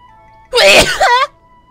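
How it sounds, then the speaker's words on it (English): A single person sneezes once, close and loud, a short sharp burst against a quiet background. "I'm gonna sneeze."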